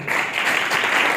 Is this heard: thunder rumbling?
no